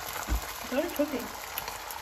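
Oil crackles and sizzles in a pan, with a soft bump near the start and a few brief spattering pops.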